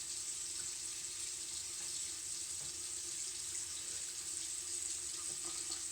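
Running tap water over a makeup brush being rinsed of soap, a steady, soft hiss of flowing water without pause.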